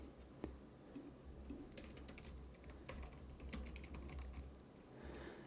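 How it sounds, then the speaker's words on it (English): Soft computer keyboard typing in a trading lesson on financial terminals: a steady stream of faint, close keystrokes with a few sharper taps, and no voices. "let's write this down."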